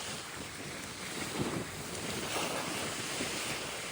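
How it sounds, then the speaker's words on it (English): Sea waves crash up onto a coastal footpath, a continuous wash of surf with gusting wind buffeting the microphone and no voices. "the waves are crashing up onto the path."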